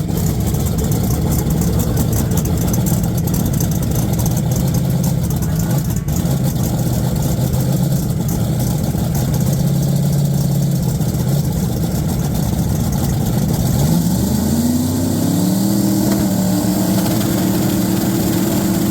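A twin-turbo Chevrolet Nova makes a drag racing pass at Redding. Its engine drones loud and steady, then climbs through rising tones near the end of the run, with no talk over it.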